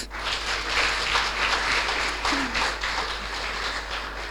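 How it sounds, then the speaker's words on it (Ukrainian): Sustained applause for the winning team, Business Force from Kharkiv, at the final of a national youth financial literacy tournament, a steady crowd clatter over a low hum. "оплески команді переможців"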